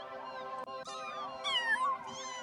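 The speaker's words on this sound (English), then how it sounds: "A few kittens come forward and perch themselves on the chairs around you, watching your sinking body, mewling" Kittens mewling, several drawn-out, rising and wavering cries that overlap one another, close by and fairly clear against a quiet background.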